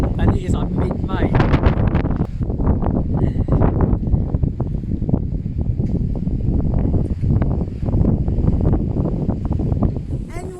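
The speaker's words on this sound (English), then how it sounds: "It is pretty windy up here" Strong wind buffets the microphone at a coastal viewpoint in northern Sardinia, a constant broadband roar with gusts that runs the whole time while a voice talks over it.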